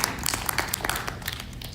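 Audience applause after a candidate's speech, a dense, steady wash of many hands clapping at close range that holds for the whole stretch with no voices over it.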